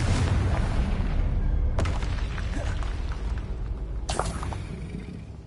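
Confringo spell explosions in the Hogwarts Legacy video game, two sharp loud blasts a couple of seconds apart over a constant heavy rumble of combat noise.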